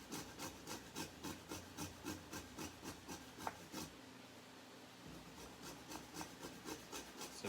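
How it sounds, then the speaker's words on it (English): Lime rind scraped against a zester or grater in a steady run of short rhythmic rasping strokes, close and quiet, with a brief pause partway through before the strokes resume. "When you're zesting a lime, you want to just take off the green part."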